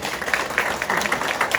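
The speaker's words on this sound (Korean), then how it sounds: "자, 저희 박수 한번 치시겠습니다." Audience applause at a legislative debate forum in Gwangmyeong on protecting small merchants and traditional markets: a steady, dense patter of clapping from the crowd that holds through the short moment.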